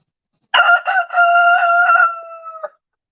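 A rooster gives one loud, close cock-a-doodle-doo crow of about two seconds, ending with a short final note, against otherwise total silence.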